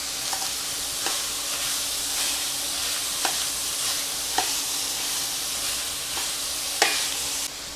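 Carrots and rosemary fry in a pan with a constant close hiss of sizzling oil. A spoon taps against the pan at regular intervals, and no one speaks.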